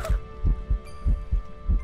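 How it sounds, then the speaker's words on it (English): Loud, close thumping heartbeat from the horror game Phasmophobia, about five deep double-pulsed beats at a quick, even pace over a low droning hum. "Big heartbeat. Big heartbeat here."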